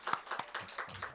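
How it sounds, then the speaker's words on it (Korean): Roughly five or six sharp, evenly paced hand claps from a small congregation during a church service, moderately close and fairly quiet. "박수 한번 해야 돼."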